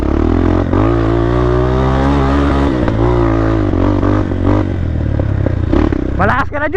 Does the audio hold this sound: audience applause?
no